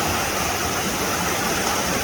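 Rushing floodwater in a swollen river, a loud steady roaring wash with no pauses, close and continuous, with no voices.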